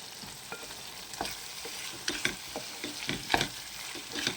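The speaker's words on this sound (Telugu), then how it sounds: "ఈ విధంగా మధ్య మధ్యలో కలుపుతూ ఉడికించుకోవాలి." A potato, capsicum and tomato curry is stirred in a pan, the spoon scraping in a quick uneven rhythm of close strokes over a steady soft sizzle, with no talking.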